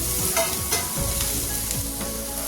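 Cooked chicken pieces are stirred and sautéed with masala in a pan, a steady close sizzle broken by repeated scraping strokes of a spoon across the pan.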